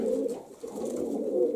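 Pigeons coo steadily in a dovecote, their low, rolling calls close and continuous with a brief dip midway, no voices present.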